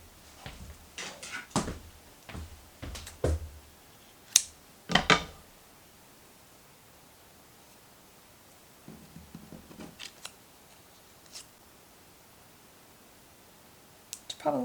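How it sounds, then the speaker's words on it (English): Scissors cutting twine for gift tags, heard as a scattering of short, crisp snips and clicks close up in a quiet room, grouped in bursts with pauses between. "cut a little bit of twine"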